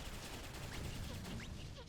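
A grenade blitz attack in the video game Xenoblade Chronicles X, heard as a dense, continuous barrage of rapid explosive blasts and crackling gunfire-like bursts, loud and unbroken throughout.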